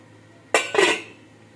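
A metal lid is set onto a pot of bottle gourd and fenugreek muthiya to steam, giving two quick close clanks about a quarter second apart with a short ringing tail, then quiet.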